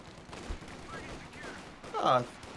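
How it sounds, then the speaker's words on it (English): Grenadiers fire rifles and machine guns in a Company of Heroes 2 battle. Quick scattered shots sit under a faint battlefield din, and a louder burst comes near the end. "Grenadiers opening fire"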